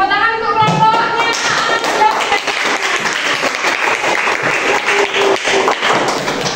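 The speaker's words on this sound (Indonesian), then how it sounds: "Oke, beri tepuk tangan untuk kelompoknya." A classroom of students claps for a student group, a dense, lively burst of applause lasting several seconds, with some faint voices mixed in.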